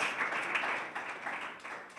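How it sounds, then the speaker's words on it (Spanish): A church congregation applauds with steady, dense clapping, fairly soft and continuous throughout the brief moment. "Denle un aplauso al Señor"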